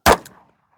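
A single loud, close pistol shot during outdoor target shooting in Rachel, Nevada, with a sharp crack, a brief metallic echo just after and a short fading tail.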